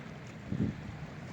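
Light wind blowing outdoors beside a fishing spot, a soft steady rush of air with one brief, slightly stronger low gust midway.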